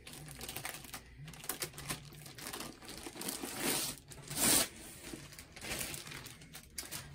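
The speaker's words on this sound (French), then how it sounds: "on va ouvrir le sac pour voir cette magnifique toile" Crinkly plastic bag holding a diamond painting canvas from Diamond Art Club is opened up close, with a steady run of rustling, crackling and tearing and a louder crinkle burst partway through.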